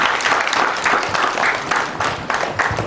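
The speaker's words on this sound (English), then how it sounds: "Let us clap for him." A school audience applauds at a project launch at Bar Union Secondary School: dense, sustained clapping from many hands, loud and steady throughout with rising and falling bursts.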